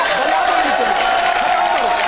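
Studio audience applause during a live Hindi TV debate, a steady, close wash of clapping and crowd noise that runs unbroken for the whole stretch.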